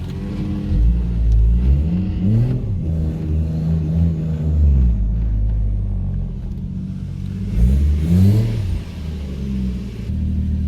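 A Toyota JZX110 car climbs a steep driveway toward a shed, its engine revving up and down in a close, steady rumble with rising and falling pitch as it pulls up the slope.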